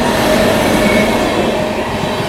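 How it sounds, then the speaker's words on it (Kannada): A train rolls through a station in India, crossing the Hubli–KSR Bengaluru Janshatabdi Express, giving a loud, steady rumble of rail wagons with faint wheel clatter and no voices. "ಹುಬ್ಳಿ KSR ಬೆಂಗಳೂರು ಜನಶತಾಬ್ದಿ ಜೊತೆ ಕ್ರಾಸ್ ಆಗ್ತಾಯಿದೆ"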